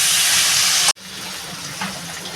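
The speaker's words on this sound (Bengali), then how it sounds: "আমি এবার পরিমাণ মতো জল দিয়ে দেবো" Water pours into a pan of hilsa fish curry with potato and green banana, a steady loud gush that cuts off abruptly, followed by quieter trickling and bubbling.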